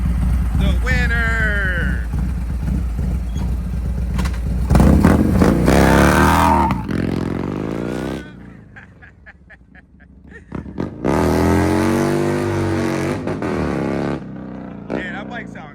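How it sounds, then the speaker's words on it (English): Harley-Davidson Road Glide motorcycles, an M8 and a Twin Cam, drag racing: loud engine revs rise and fall in sweeping bursts, fade briefly, then surge again with acceleration, while voices talk alongside. "Man, that bike sound good, huh?"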